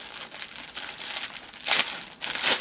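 A plastic bag wrapped around a Gremlins t-shirt crinkles and rustles up close in irregular bursts, with two sharper crackles near the end.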